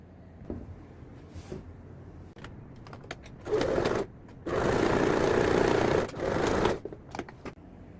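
A sewing machine stitches the bottom seam of a shorts pocket with a 1 cm or presser-foot allowance, running in several steady bursts of a few seconds each, separated by brief pauses and small handling clicks.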